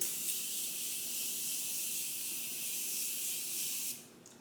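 A steady, close hiss of a Morphe makeup setting spray runs for about four seconds before stopping abruptly.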